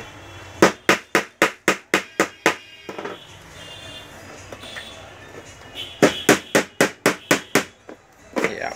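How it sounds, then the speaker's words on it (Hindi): A screw is fitted into a sewing machine table drawer with two quick runs of about ten sharp, evenly spaced knocks. A quiet pause separates them, and the blows are close and crisp. "एक हल्की सी एक पेंच यहाँ पे पीछे भी लगा दें ताकि जो है ये दराज जो है ना पीछे रुक जाए"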